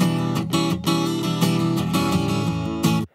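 An acoustic guitar panned slightly left in a Logic Pro X mix plays a strummed chord pattern with rhythmic strokes and brief damped gaps, ringing out alone and cutting off abruptly at the end.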